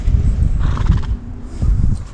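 Suffolk draft horses being loaded into a trailer whinny loudly up close, with heavy clip-clop hoof steps and thuds around the calls.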